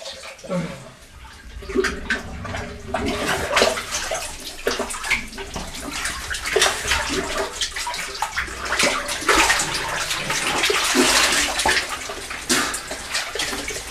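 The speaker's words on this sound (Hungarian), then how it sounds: "azt hallottuk, a túloldalról folyik be a víz a szifonba" Water rushes and splashes steadily into a cave siphon in Vacska Cave, a continuous churning flow with a roomy, echoing quality, no voices over it.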